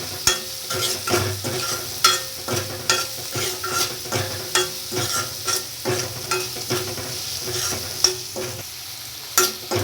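Masala with turmeric and chilli powder being stirred in a frying pan, with rhythmic scraping strokes repeating over a constant sizzle and nobody talking.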